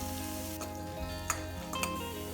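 Cashews and asafoetida sizzle and crackle steadily in a hot pan, with a few soft clicks of stirring and no talking.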